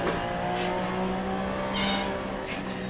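In a racing simulator game played on a DIY motion rig, a car engine hums steadily. It gives a continuous tonal drone that swells a little as it revs, with no voices over it.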